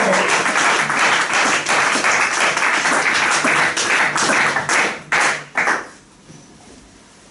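A church congregation claps loudly in a dense, sustained wave of praise to the Lord; the applause thins into a few scattered claps and dies away near the end.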